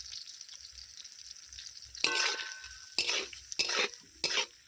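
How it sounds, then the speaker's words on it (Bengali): Prawns fry in oil with salt and turmeric, a quiet sizzle broken by four loud bursts of spatula stirring and pan clatter in the second half. "মাছগুলোকে ভালো করে ভেজে নেব"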